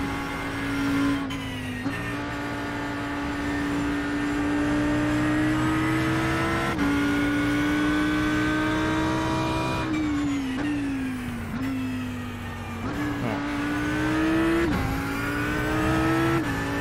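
An Audi R8 race car engine in the video game iRacing at the Hungaroring, droning steadily at high revs from an onboard view, with sharp drops and rises in pitch at gear shifts and no talk.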